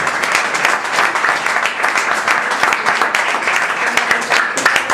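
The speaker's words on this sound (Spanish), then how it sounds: "Dale un aplauso al Rey." A church congregation breaks into loud, steady applause, dense clapping filling the room for the full length with a few voices faintly mixed in.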